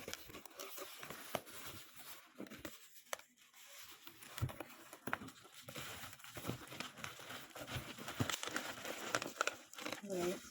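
Hands unpack a taped parcel wrapped in bubble wrap, with irregular crinkling, rustling and crackling bursts close by, interrupted by short pauses.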